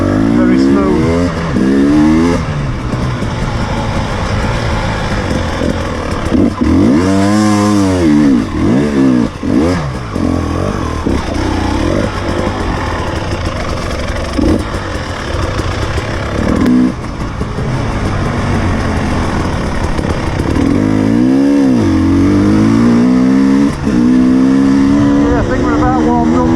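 A 2019 KTM 300 TPi two-stroke motorcycle engine revs and winds up and down repeatedly, loud and close, with rising and falling pitch sweeps as it accelerates. Someone talks over it at times.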